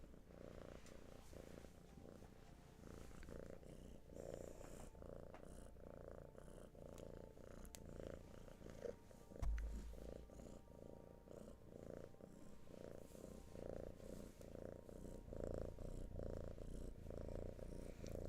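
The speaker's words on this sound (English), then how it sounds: "That's her purr." A cat purrs softly and steadily at close range, a low rhythmic rumble that keeps going without a break for about eighteen seconds in a quiet indoor room.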